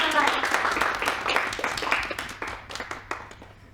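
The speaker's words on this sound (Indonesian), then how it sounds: "Kasih tepuk tangan untuk kelompok 2" A classroom full of students claps for a presenting group, the applause dense at first and then thinning into scattered claps toward the end.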